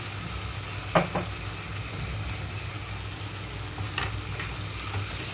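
Ground spice powder hits cooked, softened tomatoes in a pan for pappu charu, giving a steady soft sizzle with a couple of brief scraping stir clicks, close and fairly quiet.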